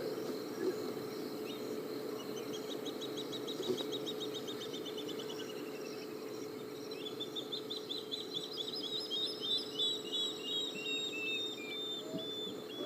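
Spotted thick-knees (dikkop) call from the dark bush, repeated rising-and-falling whistled chirping phrases at moderate distance over a low steady hum and faint crickets, with no talking.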